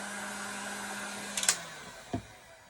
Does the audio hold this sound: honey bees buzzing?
no